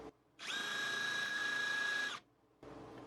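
A Hyper Tough 4-in-1 installation driver, Gen 2 model CD0801, runs in second gear for a burst of about two seconds, a loud close high-pitched motor whine with a steady tone, then cuts off before a quieter spin-up.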